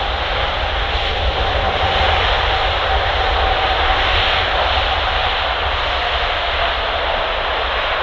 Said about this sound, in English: Obviously using the full length of the runway pretty much to stop.